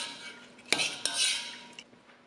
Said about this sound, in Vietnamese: Trước khi chiên lần 2 thì mình sẽ vớt những cái cặn ở trong đây ra.